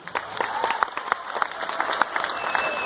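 Loud audience applause for a committee at a live event with dancers, rapid overlapping claps with distinct sharp hits, sustained across the whole span.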